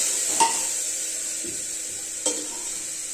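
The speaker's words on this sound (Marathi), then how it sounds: "परत छान सगळे एकत्र करून घेऊ" Rajma masala rice ingredients being mixed and sautéed in a pan, a steady sizzle running throughout with two brief spoon-against-pan scrapes standing out, close and moderately loud, no talking.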